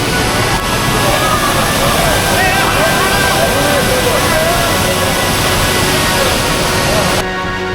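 A waterfall in full spate after rain roars in a constant heavy wash, near and loud. The sound cuts off abruptly at the very end.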